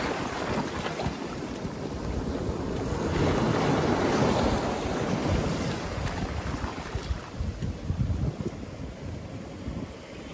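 Waves wash onto an empty beach as the tide comes back in, a continuous broadband surf roar that swells to a peak midway, with wind buffeting the microphone throughout.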